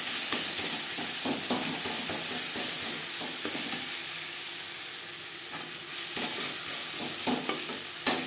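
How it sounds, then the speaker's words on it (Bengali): Onions, tomato and green chilli sizzling in a pan while being stirred and mashed, a steady frying hiss broken by repeated scraping stir strokes, close and without talk. "পেঁয়াজ অবশ্যই ভালো করে ভেজে নেবেন"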